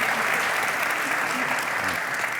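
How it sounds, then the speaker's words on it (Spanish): An audience at a public talk about Catalonia claps steadily, a dense and continuous round of applause that holds at an even level throughout. "Entiendo que le aplaudís a él, ¿no?"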